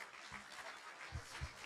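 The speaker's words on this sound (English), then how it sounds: "A loud applause, please." Audience applause at an evening presentation honoring a guest, faint and somewhat distant, a steady wash of clapping with a few low thumps and no talk over it.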